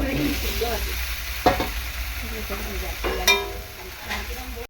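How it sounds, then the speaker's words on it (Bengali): Pumpkin pieces are sautéed in a pan for a seasonal vegetable dish with drumsticks and potato, a low continuous sizzle with a few sharp scrapes and clinks of the spatula, heard close up. "কুমড়োটা দিয়ে ওরকম ভালো করে একটু কষিয়ে নেবে"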